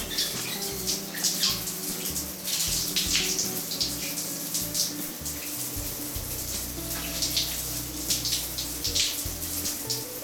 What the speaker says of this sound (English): Then you just rinse off the scrub.